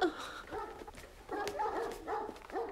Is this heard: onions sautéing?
no